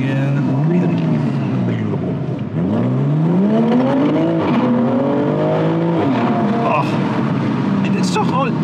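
A BMW M340i with a swapped downpipe revs repeatedly at close range, its exhaust note sweeping up and down in loud rising and falling pulls, with brief talk near the end.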